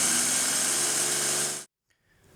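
A food processor plugged into a wall outlet runs with a steady, loud high-pitched motor whir, then cuts off abruptly, leaving near silence with faint rustling.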